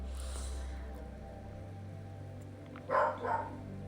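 A single dog barks twice in quick succession during a home yoga and breathing class, fairly close and clear above a steady low background hum.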